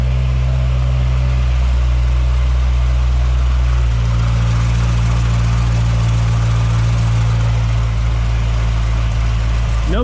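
A Chevrolet Corvette C6 ZR1 idles steadily after a cold start, a loud close low rumble that settles to a slightly lower, even drone partway through, with no talking.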